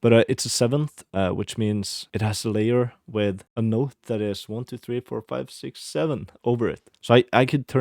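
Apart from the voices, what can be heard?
No everyday noise stands out behind the speech.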